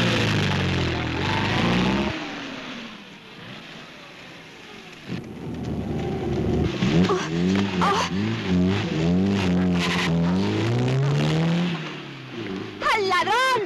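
A white SEAT 124 carrying three men speeds off, its tyres squealing in loud, wavering bursts over a dense, noisy street scene.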